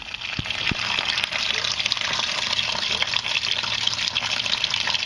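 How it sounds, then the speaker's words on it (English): Water gushing from a loosened heater core hose on a 1999 Crown Victoria P71, a steady loud pouring splash that runs continuously throughout. "The water's going to come out from right here."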